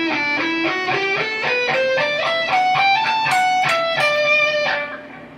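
An overdriven electric guitar plays the second section of a solo, a steady run of picked notes stepping upward then bending back down, loud and close with no talking.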